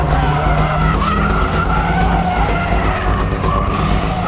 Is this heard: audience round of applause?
no